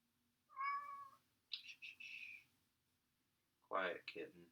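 A small kitten gives three separate meows in a quiet room, each short and fairly clear, with pauses between them.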